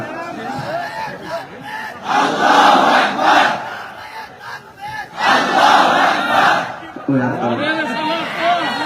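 A crowd at an Islamic waz sermon gathering shouts takbir slogans in unison, two loud sustained bursts of massed voices separated by a short lull, with a single preacher's voice leading between them.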